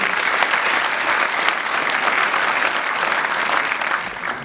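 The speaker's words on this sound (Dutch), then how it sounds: "nog een keer heel veel applaus voor Lily" Sustained, dense applause from a business event audience at the Reehorst in Ede, steady and loud throughout with no voices over it.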